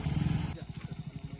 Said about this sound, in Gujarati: તો 1 નંબર આપણે ટ્રેક ઉપર બાઇક આવી ગયું છે.